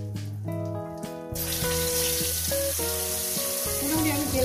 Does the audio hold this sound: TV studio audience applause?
no